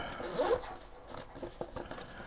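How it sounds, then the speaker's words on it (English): A zipper on the second pocket of a Targus Ecosmart backpack is drawn open, giving a soft, brief rasping burst followed by light scattered rustling and handling noises up close. "when you open up this second pocket, and the zippers go all the way down on this."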